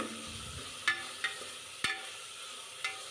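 Soaked chickpeas being stirred in hot oil for a fish sambar, a soft sizzle underneath with a few sharp spoon-on-pan clinks spaced out across the stretch, no voices.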